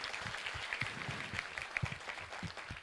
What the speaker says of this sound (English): can we get a good round of applause for the School of Management?